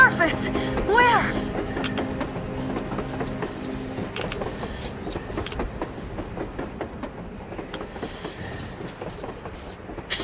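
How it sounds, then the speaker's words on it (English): A train rolls along on the surface in the video game Metro Exodus, with rhythmic clacking wheels and metallic rattling over a rumbling bed, while voices talk over it at times. "A train! A damn train on the surface!"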